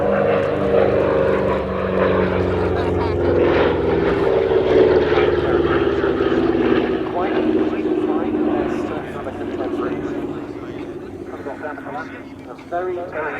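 P-51 Mustang and P-47 Thunderbolt propeller fighters in a paired flying display, a sustained droning engine roar that swells and slowly fades as they pass, under continuous commentary.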